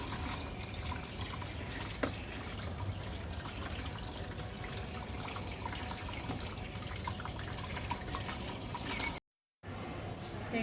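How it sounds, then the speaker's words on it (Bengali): Tap water runs steadily while freshly picked vegetables from a rooftop garden are washed beneath it, a continuous close splashing gush that cuts out briefly near the end before resuming. "একটু ধুয়ে নিচ্ছি।"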